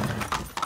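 Hooves of a horse painted up as a zebra clip-clop in Far Cry 6, a few quick, close steps forming a short, steady rhythm with no talk over it.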